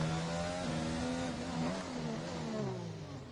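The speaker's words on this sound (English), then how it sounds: "As soon as he starts applying throttle, and as soon as those revs kind of start to show, he's going up." Race car engine on a wet Singapore circuit, revving hard and climbing through upshifts, its pitch rising and dropping with each gear change in a loud, continuous drone with no talk.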